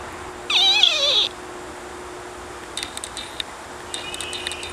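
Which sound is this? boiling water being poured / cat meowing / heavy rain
cat meowing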